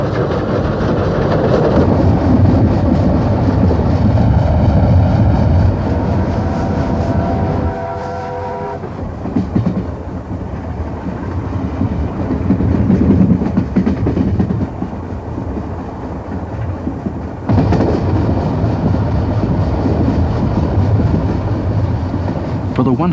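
Western Endeavour passenger train of 1970 running on rails through the Avon Valley countryside of Western Australia, a loud steady rumble with rhythmic wheel clatter and a brief horn-like tone, continuous throughout with a short drop partway.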